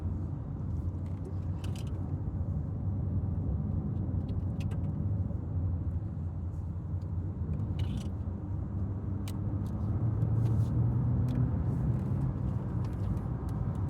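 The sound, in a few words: Mitsubishi ASX car accelerating to overtake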